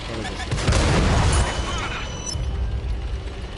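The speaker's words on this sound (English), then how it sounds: "This cannon sounds mean as fuck when it fires though" A heavy tank cannon blast in World of Tanks booms with a rumbling low tail, followed by mechanical clatter and lighter crackling as the echo fades.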